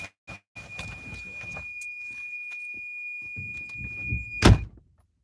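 A car door opens and shuts with a loud thump near the end of a short stretch of low rumbling and faint knocks as a person climbs out of a car, then quiet follows.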